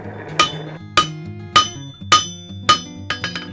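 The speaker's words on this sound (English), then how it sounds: "when you hammer the blade out" A steel knife blade being hammered during forging: a series of sharp, ringing metallic strikes at a steady pace of roughly one every half second, loud and close, with a quicker cluster of lighter taps at the end.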